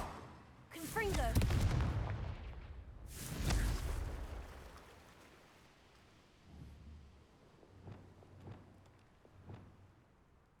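Two heavy, booming blasts of a Confringo fire spell in a Harry Potter-style video game, followed by softer thuds and crackles fading away, with faint voices around.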